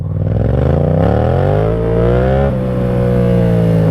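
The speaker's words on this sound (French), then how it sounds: "Moteur coupleux, moteur qui fait du son." A motorcycle engine revs up, its pitch climbing steadily, then dips briefly and holds a loud, throaty drone close by.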